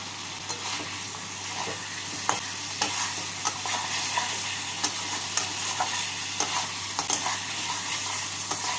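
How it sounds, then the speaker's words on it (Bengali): Fried potatoes stirred into sizzling masala for a rohu fish curry: a constant close frying hiss punctuated by regular spatula scrapes and taps against the pan. "এবার এর মধ্যে আমি ভেজে রাখা আলুগুলোকে দিয়ে মশলার সাথে নাড়াচাড়া করে নেব।"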